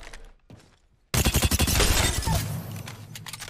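Volt SMG fire in Apex Legends: after a near-silent second, a sudden loud burst of rapid automatic shots rattles on for about two seconds, then fades into a lower rumble.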